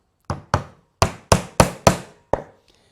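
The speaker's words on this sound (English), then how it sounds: "this is an old soft face hammer" An old soft-face hammer strikes wood while a plant stand is built, giving seven sharp, close knocks in an uneven rhythm, each ringing out briefly.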